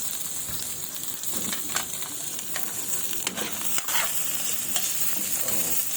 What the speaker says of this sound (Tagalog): sautin na natin o kaya haluin